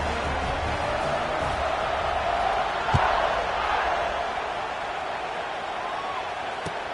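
A large stadium crowd at a Notre Dame football game roars steadily before kickoff, a dense continuous wash of cheering and noise with a brief thump partway through.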